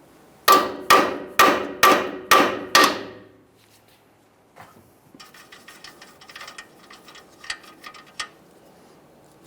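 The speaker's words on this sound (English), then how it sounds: "we'll start lightly tapping on this area, breaking it free from the steering knuckle" A hammer taps a tie rod end to break it free from the steering knuckle on a 2015-2020 Ford F-150, six sharp ringing metallic strikes in steady rhythm, then softer clinks and rattles of parts being handled.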